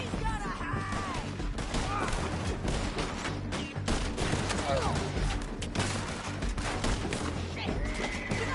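Gunfire crackles through a chaotic Red Dead Redemption 2 shootout, dense overlapping shots with horse whinnies and crashes, loud and continuous under shouting voices.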